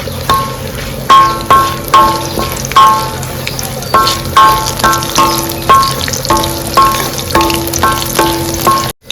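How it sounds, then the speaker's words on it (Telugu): Chana dal sizzles and crackles in hot oil in a pan with green chillies for an Andhra-style cucumber chutney. A spoon stirs and scrapes steadily in regular strokes over the continuous close frying hiss. "పచ్చెనగపప్పు కూడాను దోరగా వేయించుకుందాం."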